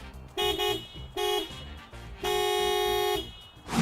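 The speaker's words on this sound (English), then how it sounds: "the actual sound of the RAV4's horn is this" A 2020 Toyota RAV4 SUV sounds its horn three times up close: two short honks followed by a longer sustained blast, a bright, steady tone.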